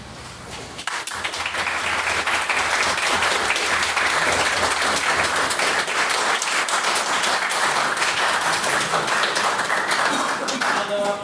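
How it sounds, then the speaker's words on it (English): Debate audience breaks into applause after a speech on banning autonomous weapons, a brief pause giving way to dense, steady clapping that stays full and even for about ten seconds. "Once again, get a second round of applause for Mr."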